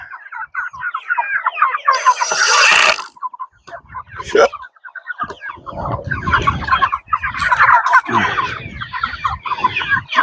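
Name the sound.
poultry birds calling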